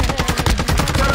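Rapid automatic gunfire from a multiplayer shooter video game rattles in a dense, continuous burst of close, loud shots.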